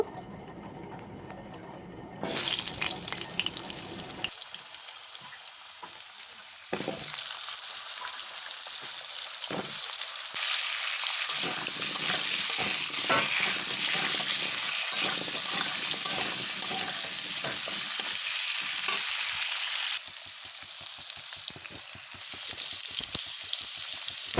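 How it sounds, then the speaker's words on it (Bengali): Cut potatoes sizzle and fry in the hot oil left over from frying fish, a steady, busy crackle that swells when they go into the pan and carries on without any voices. "কেটে রাখা আলুগুলো আলুগুলো বেশ ভালো করে লাল করে ভেজে নেব"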